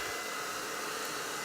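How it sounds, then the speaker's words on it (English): A hair dryer on the hot setting blows into a homemade hot air balloon, a steady, close, unbroken whoosh of rushing air. "I'm gonna take a hair dryer with hot, and we're gonna fill it up"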